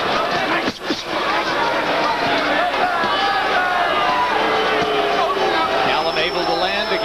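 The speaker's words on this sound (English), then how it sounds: "Crowd seems disappointed that Roy allows this kind of stuff to go on." A boxing arena crowd during a bout between Roy Jones Jr. and Mike McCallum, a continuous roar of murmuring and calls under a commentator's voice, with no single burst standing out.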